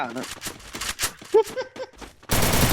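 A shooting video game: a person talks for about two seconds, then a dense burst of rapid gunfire bursts in loudly and continues to the end.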